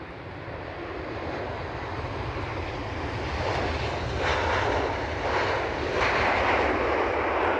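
Virgin Atlantic airliner taking off at Edinburgh Airport, a steady broadband jet roar heard from a distance that slowly builds in loudness over several seconds, with no talk.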